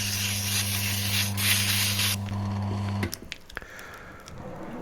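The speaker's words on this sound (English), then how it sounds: "now I only had regular sandpaper. And it does the job. It makes the corners round." Regular sandpaper rubs across a sharpening stone on a Tormek-style sharpener, a harsh hissing rasp over a steady motor hum for about three seconds, then the hum cuts out and a few scattered scrapes follow.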